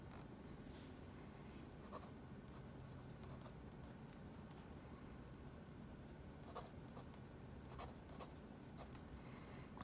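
A Platinum Preppy fountain pen with a medium nib, converted to an eyedropper filler, writes on paper, giving a quiet, continuous soft scratching broken by brief, slightly sharper stroke sounds.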